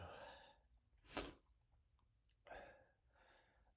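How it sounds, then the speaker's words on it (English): A single close, sharp sneeze set off by black pepper bursts out midway, with soft breathy and mouth noises before and after it. "pepper makes me sneeze so much"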